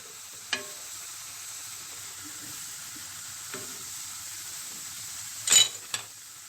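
Chicken frying in a pan with a steady low sizzle throughout, broken by a few sharp clinks of utensils against the pan.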